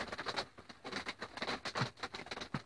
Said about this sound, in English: And yep, there's the drips.